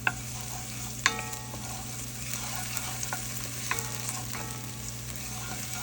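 Garlic sizzles in a pan for spaghetti sauce as it is stirred, a steady frying hiss broken by occasional utensil clicks and scrapes against the pan.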